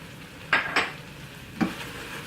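Chopped kale tossed into a hot pan, giving a few short bursts of stirring and sizzling with faint scrapes, close and moderately loud over a soft hiss.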